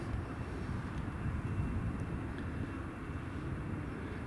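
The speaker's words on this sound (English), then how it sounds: "the other plane that's landed is simply rolling to the end of the runway to then vacate the runway" An airplane rolls along the runway at Newcastle International Airport, heard as a steady, faint, distant engine roar that holds without a break.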